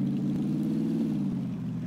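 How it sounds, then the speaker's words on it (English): In the PUBG video game, a car's engine hums low and steady with the brake held, spinning its tires to build momentum, a brief continuous drone with no talk. "so you can spin the tires, get some momentum, and then let go of brake."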